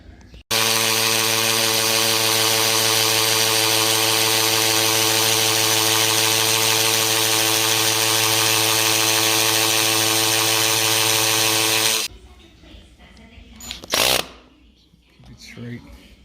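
A power drill boring into concrete with a masonry bit to set anchors for a floor transition strip channel, a loud steady whine running continuously for about twelve seconds before stopping, followed by quieter shuffling and brief talk.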